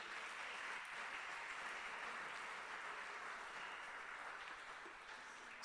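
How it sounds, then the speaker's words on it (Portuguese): Congregation clapping during a church service, a continuous, faint wash of applause from a gathered crowd, even in level across several seconds and heard from a distance. "Forte aplauso ao nosso Senhor Jesus."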